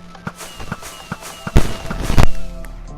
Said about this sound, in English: Alright, we got the pyrotechnics. They're fireworks, of course